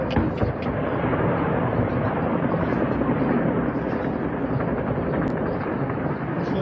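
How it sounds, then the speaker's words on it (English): Drone circling and crashing into an oil refinery, heard as a loud, continuous broadband roar with rumbling low-end throughout and a few sharp bursts near the start, without speech over it. "The drone circles around and impacts inside of the refinery."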